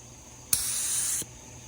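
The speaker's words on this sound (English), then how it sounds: "we're going to take a quick little spray right here" Amazon-bought spray gun applying Cerakote coating to a motorcycle stator side cover, a single sharp onset into a steady, loud airy hiss lasting under a second before cutting off cleanly.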